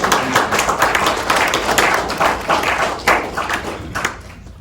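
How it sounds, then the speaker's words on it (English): An audience claps steadily for several seconds before a shamisen performance, a close, dense patter of many hands that tapers off at the end. "Everyone give her a round of applause."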